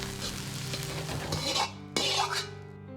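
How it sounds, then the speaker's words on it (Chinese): Hang peppers, red peppers and minced garlic stir-fried in scallion oil in a wok, with close scraping stirs over a soft continuous sizzle and a couple of sharper clanks. "下入杭椒和美人椒、蒜末煸炒出香味"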